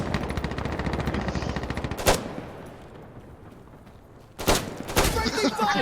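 Automatic gunfire from the video game Insurgency: Sandstorm, with rapid rattling bursts at the start, a sharp shot near two seconds and more loud shots near the end, mixed with a player's voice.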